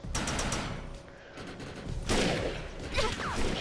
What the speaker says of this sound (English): Just getting shot from every direction here